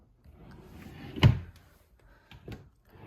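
Drawer sliding open with a soft rumbling scrape that peaks in one firm knock, followed by a lighter clack and faint rustling nearby.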